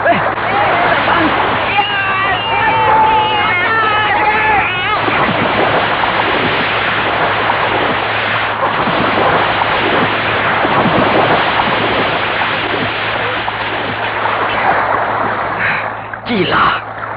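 River water churns and splashes around capsized boats as soldiers swim, a continuous rushing wash heard beneath dramatic spoken narration in a radio drama.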